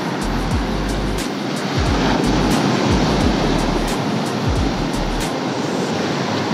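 Steady roar of ocean surf at Dinahican Beach in Infanta, Quezon, with waves rolling and breaking continuously and loudly, a broad wash of noise with no speech.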